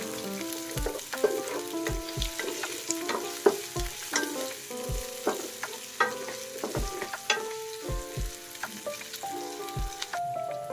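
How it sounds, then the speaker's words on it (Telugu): Onions and drumstick pieces fry in a pan for a mango drumstick dal, with steady sizzling and frequent clinks and scrapes of a spoon stirring, close up and without speech. "ఆనియన్స్ కొంచెం గోల్డ్ కలర్ వచ్చేంత వరకు ఫ్రై చేసుకుందాము"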